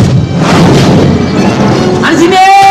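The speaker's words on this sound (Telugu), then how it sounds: "సార్, ఇప్పుడిప్పుడే ఒక గన్ షాట్ వినిపించింది." A sharp gunshot from a Telugu movie scene, sounding as a loud boom-like blast with a busy soundtrack and voices around it and a tonal swell near the end.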